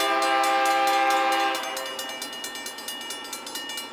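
A GT freight train headed to Durand, Michigan rumbles past nearby with a loud horn blast that holds steady and then fades. The rhythmic clickety-clack of wheels on rail joints follows it.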